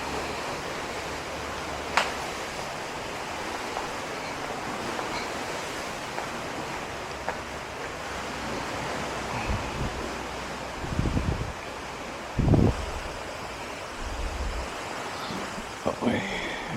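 Ocean waves wash onto a shore at a staycation spot, a constant broad surf roar mixed with wind buffeting the microphone, with a few brief louder thumps and no clear speech.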